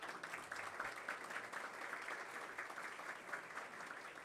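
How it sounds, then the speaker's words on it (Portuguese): Audience at a bar association ceremony in Barretos applauds the orchestra musicians, steady dense clapping from a crowd at moderate distance, fairly faint and unbroken throughout. "Aos músicos eu peço uma salva de palmas."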